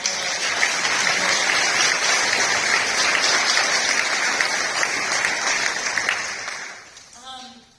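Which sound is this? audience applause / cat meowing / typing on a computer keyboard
audience applause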